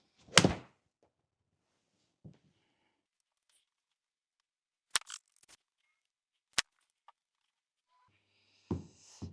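Golf club striking balls on a practice range, heard as a few sharp, isolated impacts spread apart with silence between, one louder crack at the start and fainter clicks later, with some rustling at the end.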